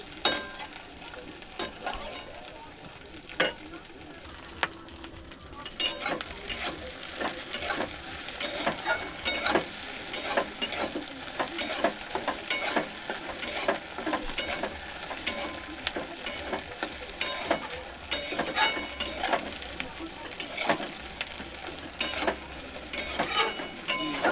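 Egg, tomato and onion bhujia sizzles in a pan over a low flame, with frequent scraping and tapping strokes of a spatula that grow busier after the first few seconds, close and fairly quiet.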